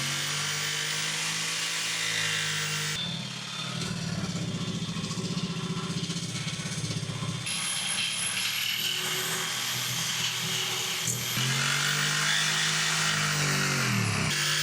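A jigsaw cuts through material while upgrades are fitted to a police Whaler boat, its loud buzzing motor whine rising and falling in pitch across several separate passes.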